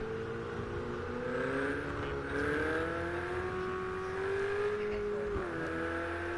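A race car engine held steady on the pit lane speed limiter in Project Cars 2, a GTE car in a Camel GT qualifying session, droning loud and constant with slight pitch shifts and a brief dip near the end, no voices.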